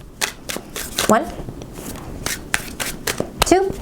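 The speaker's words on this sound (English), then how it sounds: "2 more shuffles, 8-card spread." Tarot cards are shuffled by hand in quick riffles and taps, a series of close, crisp flutters and slaps, with a person speaking softly between them.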